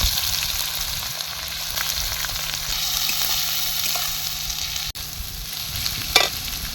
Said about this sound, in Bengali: এবার দিয়ে দিলাম কুচানো পেঁয়াজ